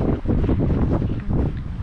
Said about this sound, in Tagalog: Malakas tong hangin eh.